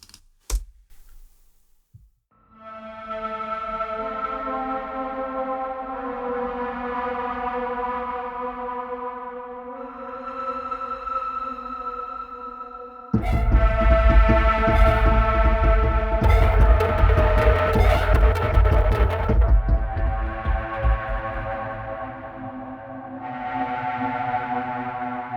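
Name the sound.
spooky synth section of a composition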